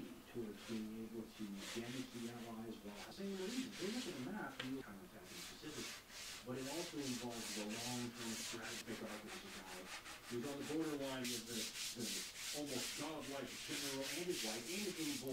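A wooden rudder is hand sanded with folded sandpaper, giving a steady, close rasping rub that repeats in back-and-forth strokes without a break.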